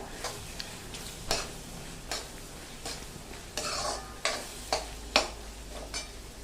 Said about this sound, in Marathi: टोमॅटो पूर्ण मऊ होईपर्यंत कांदा परतायचा आहे